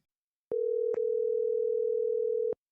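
A single steady electronic telephone tone sounds while a call is placed, holding one clean pitch for about two seconds with a slight click near its start, clear and alone.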